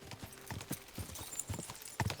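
Horse hooves clip-clopping in the video game Kingdom Come Deliverance 2, a brisk, even run of close hoofbeats with a faint voice near the end.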